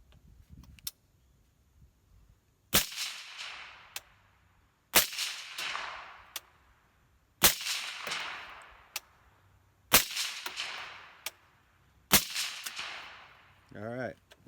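Five sharp rifle gunshots fired at even intervals, each a loud crack with a short echoing tail, from a rifle with a mil-spec muzzle fitted with a KAK K-SPEC bolt carrier group, outdoors.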